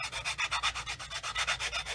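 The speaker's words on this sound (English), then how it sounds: "I'm just letting the sanding stick do its thing, getting the majority of it off" Quick, steady back-and-forth rasping of a sanding stick on a plastic 1/48 scale P-40F Warhawk model, about a dozen even light-pressure strokes in a brisk rhythm, close and fairly quiet.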